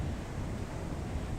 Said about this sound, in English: it's really windy here on the beach.